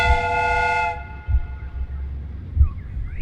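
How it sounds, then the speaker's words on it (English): Steam train whistle from a Sherlock Holmes game, one loud sustained harmonic blast that cuts off after about a second, followed by low rumbling thumps and faint mechanical noise. "The steam whistle is ready to be used."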